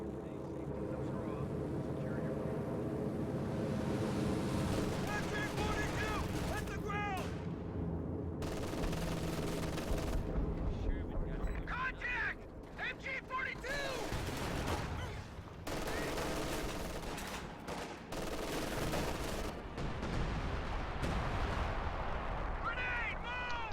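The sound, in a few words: time-on-target artillery barrage in a video game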